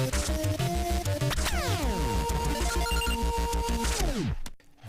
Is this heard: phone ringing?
yes